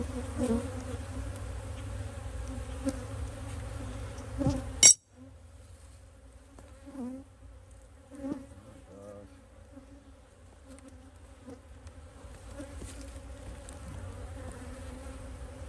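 Bees buzzing around beehives at an apiary troubled by small hive beetles: a steady, fairly close hum, with a sharp knock or clunk of the hive partway through, then softer buzzing that continues alone.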